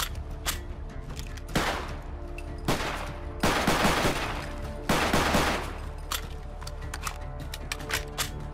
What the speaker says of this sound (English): Beretta M9A3 is the next one, a modern Italian tactical handgun.